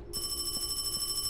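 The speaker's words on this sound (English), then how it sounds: "why is there a phone ringing here?" Telephone ringing inside a sewer in a horror video game: a steady electronic ring with sustained tones and a faint repeating pulse, heard alone at moderate level.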